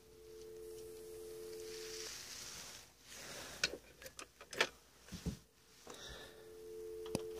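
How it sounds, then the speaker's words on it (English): A vintage ITT 2500 touch-tone desk phone gives a steady, even dial tone. The tone cuts out amid handset clicks and handling noise, then returns steadily. "It's definitely a dial tone."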